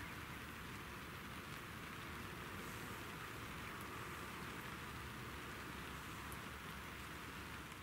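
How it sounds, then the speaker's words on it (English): Fine misty rain falls over a day-ticket carp fishing lake, making a steady, even, faint hiss that never changes throughout. "There's really fine misty rain in the air."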